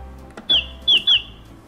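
A children's learning toy button plays a bird call: three short, bright chirps in quick succession, the last two close together, over faint low background hum.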